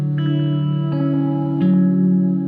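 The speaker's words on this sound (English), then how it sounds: "so nice kind of pad reverb sound to it" An ambient guitar pedal chain with a modulated filter and lush pad-style reverb holds sustained, shimmering tones that shift pitch twice, washing and spacey, with no voice.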